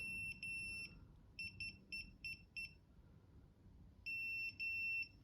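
Electronic beeping from a Segway Ninebot Max G2 electric scooter: a steady high tone, then four quick short beeps, then longer sustained tones, fairly faint over low background hum.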